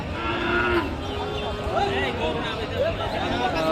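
Several drawn-out cattle moos, near and fairly loud, over a busy crowd murmur with people talking in the background at a cattle market in Jessore.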